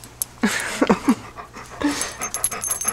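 A pet dog pants rapidly and whimpers softly nearby, quick breathy bursts with a few small whines, fairly loud and close in an indoor room.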